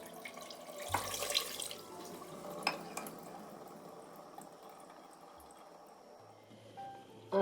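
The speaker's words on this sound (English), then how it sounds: "I pour out water once again." Water is tipped out of a pot of face masks in a soft, uneven splashing stream, with faint drips and clatter, fairly close and quiet.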